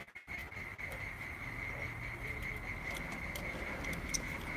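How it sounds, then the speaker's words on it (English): Crickets chirp in a steady, continuous high-pitched trill on a mild summer evening outdoors, moderately loud and unbroken, with a low rumble of background noise underneath and no talking. "Crickets are doing their cricket."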